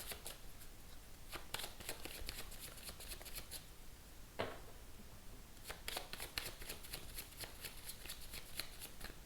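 Tarot cards shuffled by hand during a reading, a steady close riffling rustle that runs continuously with brief sharper flicks, quiet and alone.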